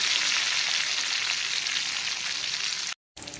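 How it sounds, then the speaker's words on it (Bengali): Black cumin, cumin and a bay leaf fry in hot oil in a steady, dense sizzle, loud and close, cut off briefly near the end before resuming. "এখন ফোড়নটাকে একটুখানি ভাজা ভাজা করে নেব, মানে কালো জিরে, সাদা জিরে এগুলোকে একটুখানি ভাজা ভাজা করে নিতে হবে"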